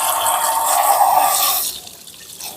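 Water sprays hard while washing an electric motorbike, a steady loud hiss of spray that drops off abruptly toward the end to a quieter trickle.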